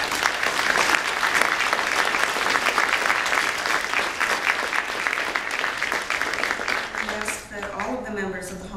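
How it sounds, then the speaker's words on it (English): Sustained audience applause fills a Hall of Fame induction ceremony, a dense steady clatter of many hands that softens near the end as a voice begins speaking. "Let's give a round of applause to everyone."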